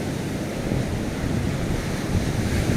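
Continuous broadband wash of sea waves mixed with wind buffeting the microphone, steady and fairly loud with no talking.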